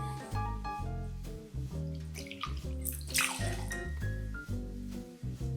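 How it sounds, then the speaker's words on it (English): Bourbon poured into a mixing glass, a soft continuous liquid trickle heard faintly beneath music playing throughout. "in a mixing glass, we're gonna pour 2 ounces or 60 ml of bourbon"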